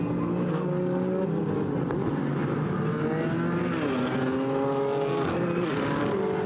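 GT4 race cars, including a McLaren and a BMW, roar past during a 2019 GT4 European Series race at Paul Ricard. Loud, continuous engine howls with shifting pitches overlap, and no one speaks.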